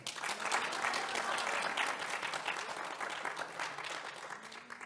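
An audience at a mayoral candidates' debate in Udine bursts into sustained applause with some cheering, dense clapping that fades slightly toward the end, with faint voices beneath.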